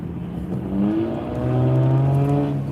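A small car engine drones loudly past, its pitch rising and shifting as it accelerates close by, then holding a buzzing roar.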